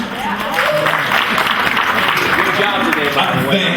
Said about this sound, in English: I wasn't looking for applause